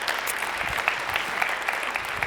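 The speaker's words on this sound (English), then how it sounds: "please a warm applause for Jason" Audience applause at an SEO conference session in Munich, a steady dense patter of many hands clapping across the room, moderately loud and continuous, with no speech over it.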